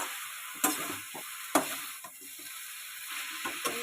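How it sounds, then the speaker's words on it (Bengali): Banana flower curry mixed with lentil fritters stirred in a pan, soft scraping strokes and a few sharp spoon knocks over a low, quiet sizzle, close up with no talking. "সঙ্গে এই ডালের বড়াগুলো আমি মিশিয়ে দিলাম, দিয়ে এবার আমি নাড়াচাড়া করতে থাকলাম।"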